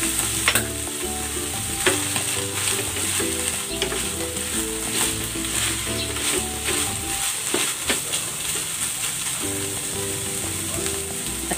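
Green chilies and bird's eye chilies fry in a pan with a steady bright sizzle and crackle, interrupted by the scrape and clatter of stirring, with no voices.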